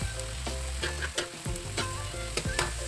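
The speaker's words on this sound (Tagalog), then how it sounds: "Konting gisa-gisa lang po." Onion and tomato sizzle as they are sautéed in a hot pan for a Filipino sweet sarsiado dish, a steady close frying hiss broken by repeated scraping and stirring strokes, with no voices.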